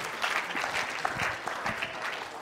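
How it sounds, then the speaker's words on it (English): An audience gives a round of applause, dense continuous clapping from a room full of people, fairly loud and steady throughout with no speech over it. "Why don't you guys give these a round of applause"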